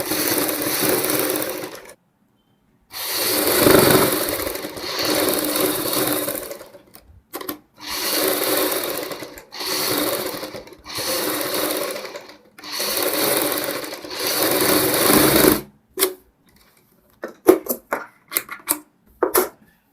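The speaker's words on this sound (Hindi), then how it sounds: "अब हम यहाँ पे डबल सिलाई लगा देंगे।" A sewing machine runs a double line of stitching on a sleeve in five steady bursts, each lasting a few seconds with short pauses between, followed by light clicks and handling noises.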